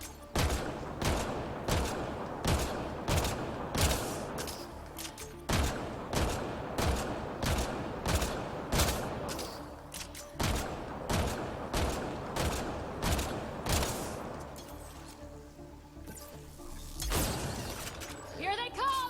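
Turret gunfire in Mass Effect: Andromeda, loud repeated bursts of rapid shots in a steady rhythm with brief pauses between volleys, mechanical clatter in the gaps and a voice speaking at times.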